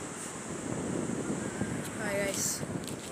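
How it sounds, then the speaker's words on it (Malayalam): Sea waves roll in at Meppilangad beach as a continuous broad roar of surf, with wind buffeting the microphone and a low rumble under the wash. "കടലാണ്. മേപ്പിലങ്ങാട് ബീച്ചാണിത്"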